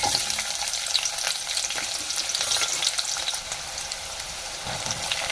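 Cumin seeds and onion fry in a hot pan, giving a steady, bright sizzle with occasional stirring scrapes throughout and no talking.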